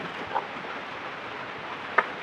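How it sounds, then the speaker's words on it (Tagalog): Steady rain during a bike ride in a typhoon, a constant soft hiss of falling water with a couple of faint drip-like ticks. "Ayaw tumila ng ulan"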